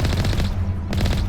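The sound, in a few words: gunfire in the video game Mass Effect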